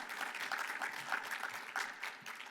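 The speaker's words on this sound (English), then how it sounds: "Please give them a big hand of applause again" An audience at a press event applauds for a speaker's guests, a brief, even stretch of many hands clapping at a fairly faint level with no talking.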